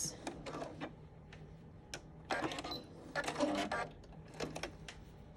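Sewing machine back tacking along a pant hem, short bursts of stitching separated by pauses, fairly quiet and close with no talk.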